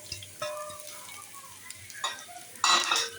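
Chopped garlic and green chili sizzle in a pan while being stirred. A soft frying hiss runs under scraping utensil strokes, ending in a louder stir near the end.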